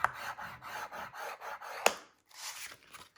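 Scoring lines into cardstock for a shadow box card, a run of soft repeated scraping strokes at close range, a sharp click midway, then a brief pause before more rubbing passes.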